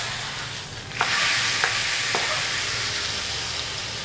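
Hot chilli tempering poured over a brinjal gravy gives a sudden loud sizzle that keeps hissing steadily, with a few faint clinks of a utensil early on.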